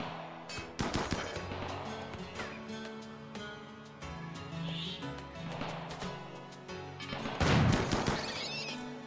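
Turret gunfire from the video game RimWorld, sharp repeated bursts scattered across a busy game soundscape with music and other effects, fairly loud with clusters of shots rather than one steady stream.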